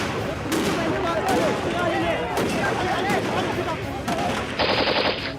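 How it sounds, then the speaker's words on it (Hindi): Rapid bursts of gunfire with sharp cracks and blasts during a terrorist attack in Mumbai, loud and dense with a voice speaking over the shooting. "गोलियों की तड़तड़ाहट और ग्रेनेड के धमाके"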